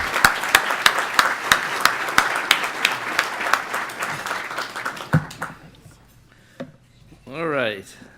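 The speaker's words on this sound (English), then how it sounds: "Please give him a round of applause." Audience applause at a public event welcoming a county executive, a dense burst of clapping with a few sharp claps standing out that fades after about five seconds into quiet, followed by brief voices.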